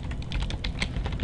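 Someone types on a computer keyboard while writing C# code, producing a quick, close, steady patter of key clicks with no voices.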